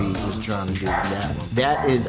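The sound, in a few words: dog barking during a storm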